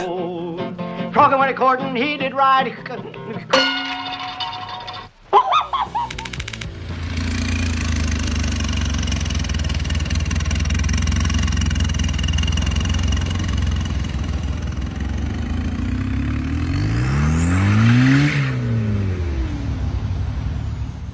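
Car engine idling at a steady low rumble that runs for over ten seconds after a burst of music, then a rising and falling whine sweeps across near the end.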